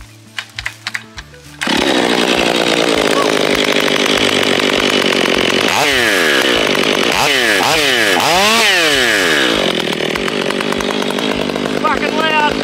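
A Stihl 500i chainsaw fitted with a new muffler starts after a few pulls, then idles loudly and revs up several times in rising and falling sweeps, close by.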